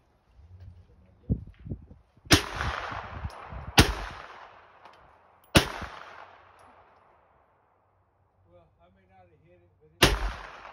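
A PSA JAKL rifle fires sharp, loud shots outdoors, several single cracks spaced a second or two apart, each trailing off into an echo. Softer handling clicks fall between them, and a faint voice comes near the end.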